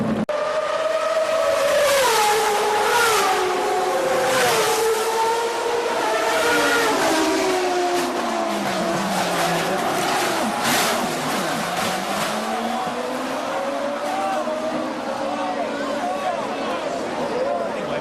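Race cars roar around a track during a crash-filled first lap, with engines droning and shifting in pitch and a brief tire squeal, all under continuous excited commentary.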